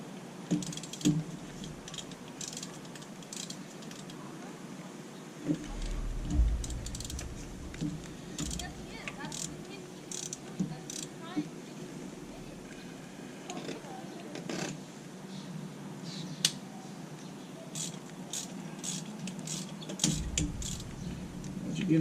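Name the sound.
ratchet turning socket on spark plug, 2003 Chevy Tahoe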